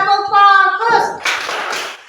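In a classroom, a chanted voice leads into a short burst of rhythmic group focus clapping, fairly close and lively.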